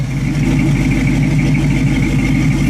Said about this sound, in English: Factory dual exhaust,